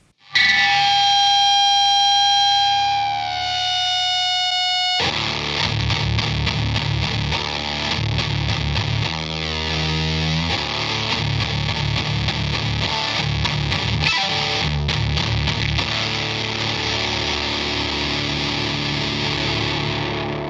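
Electric guitar through a fuzz pedal played on its own, starting with sustained distorted notes, then chugging, buzzy riffs played loud and close.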